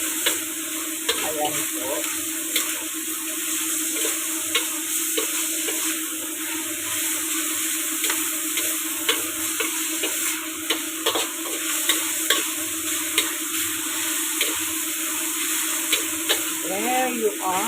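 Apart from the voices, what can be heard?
eggplant frying in oil with minced pork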